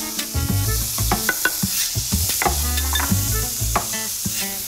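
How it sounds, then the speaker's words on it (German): Beef ham frying in a pan on a farm in the Westerwald, a close steady sizzle with scattered sharp clicks and scrapes, no talking. "Den hofeigenen Rinderschinken brät Annette in der Pfanne an."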